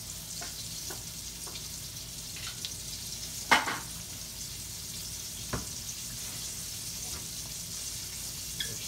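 Meat browning in a hot pan sizzles steadily, a constant bright hiss broken by a few louder pops and crackles, with a little background clatter.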